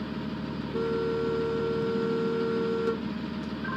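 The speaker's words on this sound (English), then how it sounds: "Hey, Angie, honk your horn for me." A truck horn in the Rigs of Rods driving game blares as one steady, sustained honk lasting about two seconds over a low, continuous engine and road rumble, with no talking.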